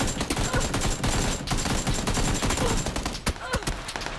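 Rapid full-auto AKM rifle fire in a first-person shooter video game, loud sustained bursts of closely spaced shots filling about four seconds with only brief gaps.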